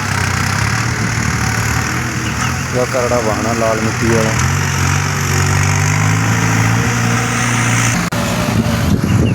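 A New Holland tractor engine drones steadily and loudly throughout, with someone talking over it close by.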